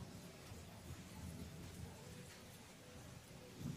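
Soft, steady rain patter with a low rumble underneath, a gentle continuous wash of light drizzle without any voices.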